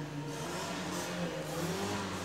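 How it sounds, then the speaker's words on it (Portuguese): A car accelerates in the street just outside a house, its engine a steady mid-pitched drone that rises slightly in pitch across the moment, continuous and moderately quiet, with no voices. "E agora o carro resolve acelerar na porta da minha casa."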